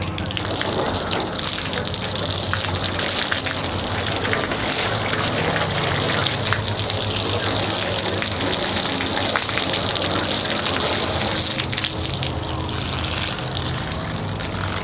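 A steady, hissing spray of water patters continuously against car paint during a water bead test, close and loud, without pause.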